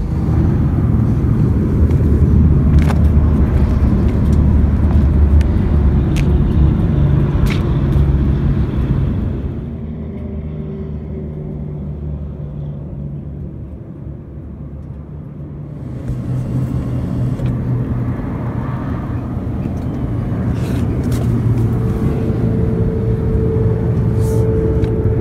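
A 2018 Infiniti Q60 with a twin-turbo V6 driving, steady loud engine and road rumble that eases into a quieter cruise midway before building again, with no talking.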